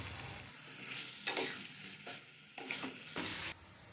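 Chopped tomatoes stir and sizzle in hot oil in a pan for a chicken curry, with a steady fry hiss broken by several bursts of scraping spatula strokes, close and without talk.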